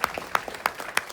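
A meeting audience gives a short burst of applause, several sharp claps at a fairly regular rhythm, moderately close and fading quickly.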